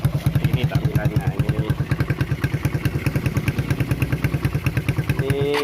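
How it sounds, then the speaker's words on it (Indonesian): Suzuki Satria FU motorcycle fitted with an aftermarket exhaust and dB killer, idling with a steady, close, rapid low thumping pulse that swells slightly near the end. "Kalau dipakai DB killer ini suaranya halus."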